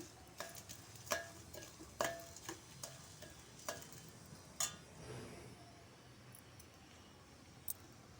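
White sesame seeds roast in a pan, giving faint, scattered ticks and small crackles over a quiet background, with a few sharper pops and stirring scrapes spaced irregularly.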